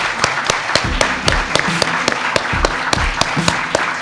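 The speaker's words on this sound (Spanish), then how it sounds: "Sí, un aplauso al arquitecto." An audience at an architecture session applauds an architect, with sharp, evenly spaced claps standing out over a dense crowd clapping, loud and close.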